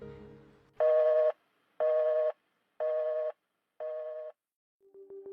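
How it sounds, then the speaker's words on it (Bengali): A telephone line plays four evenly spaced, identical electronic tone beeps in a steady rhythm, followed by a brief fainter tone, with no talking. "ফোন দিচ্ছি।"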